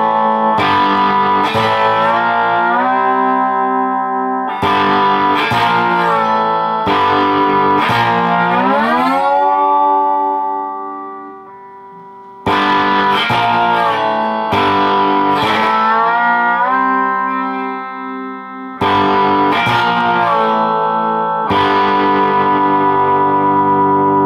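Electric guitar played with a slide runs through an intro riff, loud and alone, with sliding notes in repeated phrases and heavy reverb and echo ringing after each one. The playing pauses briefly near the middle.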